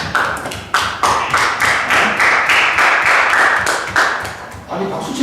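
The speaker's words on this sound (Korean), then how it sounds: "아니 박수 칠 일이 아니고" An audience at a lecture on entrepreneurship claps in a loud, sustained round of applause. Crisp rhythmic claps stand out over a dense wash of hands, and a voice comes in near the end.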